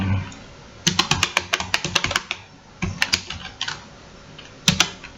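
A command is typed on a computer keyboard in rapid runs of sharp, close key clicks, with a pause between bursts and a final couple of taps, and no talking.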